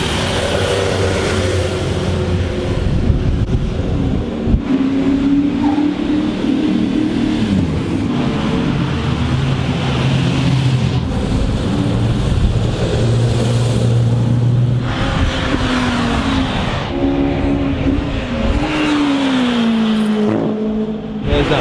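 Race cars roll down the pit lane at Silverstone, loud engines revving and droning close by as several cars pass one after another, pitch rising and falling with each throttle change.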